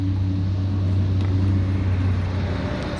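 Steady road traffic noise drones beside a home garden, a constant low rumble of passing vehicles heard at moderate distance with no pauses, continuous for the whole stretch.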